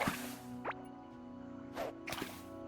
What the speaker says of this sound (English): Yeah, the water sounds very nice.